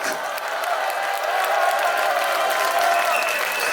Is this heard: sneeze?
no